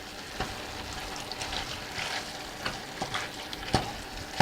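Tomato sauce being stirred into drained, browned meat in a pan for lasagna: a steady close sizzle and bubbling with soft scraping stir strokes, a few louder clicks of the spoon near the end, no voices.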